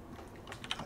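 Soft, close keystrokes on a computer keyboard while working in the Emacs editor, a brief quick patter of a few taps with no talk.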